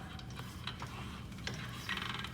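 A hydraulic floor jack is pumped to lift a vehicle by its pinch weld off a jack stand, giving a few faint mechanical clicks and creaks in a steady rhythm with no talk.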